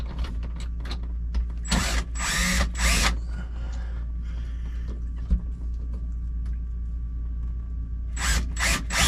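A power tool tightens a fitting on an RV reverse-osmosis water system, sounding in several short whirring bursts with quiet handling noise between them, close and loud.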